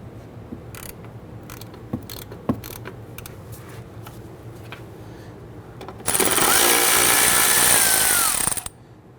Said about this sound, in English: I'm going to use our socket and ratchet to loosen and remove these nuts.